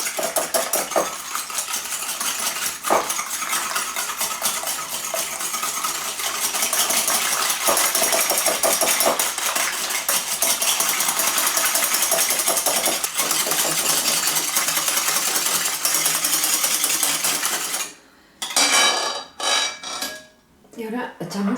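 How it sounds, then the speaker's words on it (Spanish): A hand whisk beats eggs and sugar in a bowl, a close, rapid, steady metallic clatter that runs for a long stretch, then breaks into a few short bursts near the end. "Y los batimos con las varillas."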